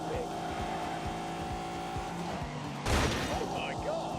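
A large car accelerates hard in The Grand Tour racing game, a steady engine drone building under rhythmic thumps before a sudden loud burst near the end, with tyre squeal over the roar.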